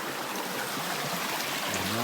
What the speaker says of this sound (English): That's a creek.